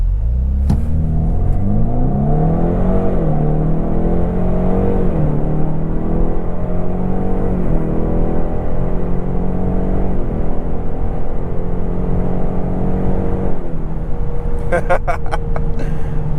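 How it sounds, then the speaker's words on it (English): A 2024 Ford Mustang EcoBoost Premium with active performance exhaust revs up and accelerates hard from 0 to 60 mph, its rising exhaust note climbing through gears, loud and close, with a brief burst of noise near the end. "Let's try one more 0 to 60. We'll give it a little gas"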